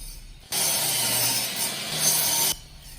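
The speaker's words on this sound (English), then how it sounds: "it's time for a new blade on my miter saw" A miter saw cuts through a wooden stile with a worn blade, making one loud two-second burst of harsh, bright cutting noise that starts and stops abruptly, close by.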